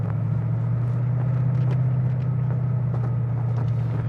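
A deep, steady engine rumble drones continuously from inside a 2014 Shelby Mustang GT350, low and even, with faint ticks and rattles over it.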